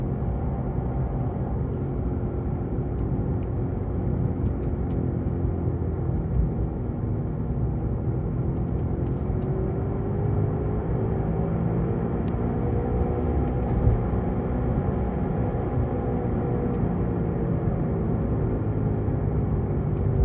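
A Tesla Model 3 turning left with a grinding fault from the tires or running gear: a steady, loud, low rumbling drone with a faint tonal whine that holds unbroken throughout, with no voices.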